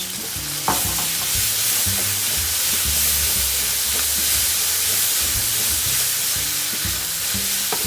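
Noodles being stirred with a dollop of hoisin sauce in a hot pan: a constant loud sizzle and hiss of frying, with a sharp scrape of a utensil early on and continuous stirring beneath the steam.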